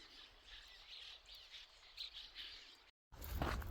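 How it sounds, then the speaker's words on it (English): Birds chirp and chatter beside a marshy, mosquito-ridden river at sunrise, a dense, steady chorus of small calls carrying through the first three seconds, then cut off by a brief gap and a burst of louder, closer noise. "listening to the chatter of bird song"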